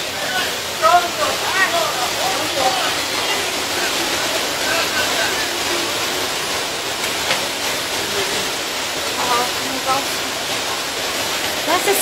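A flooded river rushes in Genoa, a dense, constant roar of churning water that fills the scene at high level with small surges throughout.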